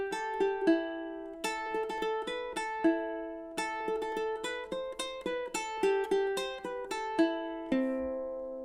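A ukulele plucks the melody of Whiskey in the Jar note by note, clear bright tones in a steady rhythm, played solo and fairly quiet.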